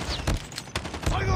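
Rapid bursts of automatic gunfire in Call of Duty: Mobile multiplayer on the Nuketown map, loud and close, with voice callouts from game characters mixed in.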